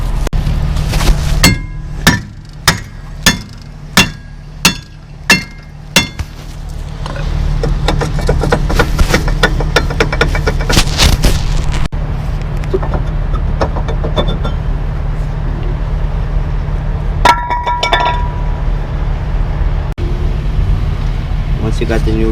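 A hammer raps a rear brake caliper bracket on a 2008 Acura about six times in a steady rhythm, sharp close metallic knocks over a low hum, followed by general workshop clatter and handling noises.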